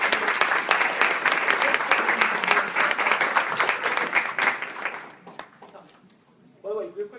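Applause from attendees at a town board meeting, steady and dense clapping for about five seconds before it thins out and fades, followed by a brief voice.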